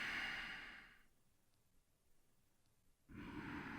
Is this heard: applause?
no